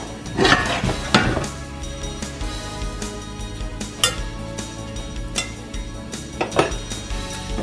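A pan clatters and clanks as potato cooking begins, with repeated metallic knocks and scrapes of cookware and utensils, close and irregular, scattered over a low steady background.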